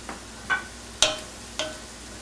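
Spicy shrimp sauce bubbling in a pan on the stove, heard as a few sparse, soft pops spaced about half a second apart over a quiet kitchen background, with no talking.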